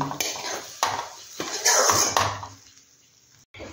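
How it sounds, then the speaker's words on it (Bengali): A wok on a home stove being shifted aside, with a run of metallic clanks, knocks and scrapes against the burner for a few seconds before it settles into near silence. "এবার এই কড়াইটা আমি ও পাশে সরিয়ে রাখবো"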